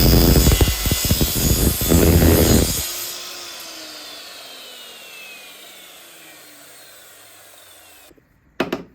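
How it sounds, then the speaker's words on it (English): A chop saw with a normal blade cuts aluminium in a loud, harsh burst of about three seconds, then the blade's whine slowly falls away as it spins down. A short clunk follows at the end. "And I'll turn the chop saw on."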